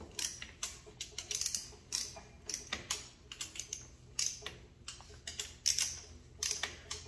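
A wrench ratchets and clicks while snugging the cylinder head bolts on a Honda CT125 Trail 125 with a new 164cc piston and cylinder, giving sharp, quick bursts of clicking separated by short pauses, close and crisp.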